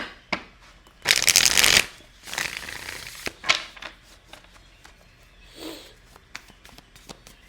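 A deck of tarot cards is shuffled close up: a brisk riffling burst, then several shorter taps and flicks of cards being squared and handled, with no talking.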